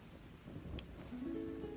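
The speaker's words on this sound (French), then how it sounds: "Je suis chez moi et il pleut chez moi." Rain falls indoors inside a house in the video game Hytale, a steady soft hiss with low rumbling underneath, fairly quiet and without talk.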